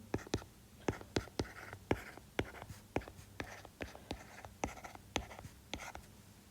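Pen strokes on paper while working calculus vector problems by hand, a steady run of short, crisp scratching taps in quick bursts, close and fairly quiet with no talk.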